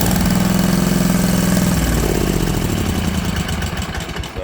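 A Kawasaki engine on a Wright Stander mower cranks and fires, then settles into a steady, loud idle close by, with its tone shifting slightly partway through and no talking.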